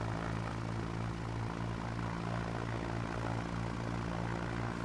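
A Piper Cub light airplane in flight over Bartow, its propeller engine droning steadily and loudly throughout from inside the cabin, with no pauses or talk.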